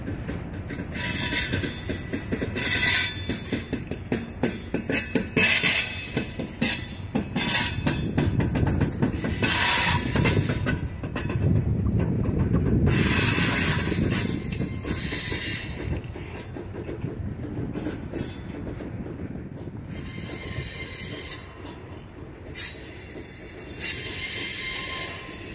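Freight train cars of a Norfolk Southern train rolling past close by, with a continuous heavy rumble, rhythmic clickety-clack and repeated loud, shrill wheel squeals.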